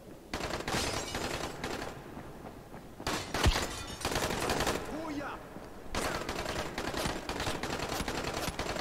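Automatic gunfire in the Dying Light video game, several rapid bursts separated by short pauses, fairly quiet and distant, with a voice speaking between bursts.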